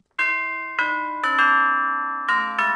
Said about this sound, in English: I'll try this doorbell.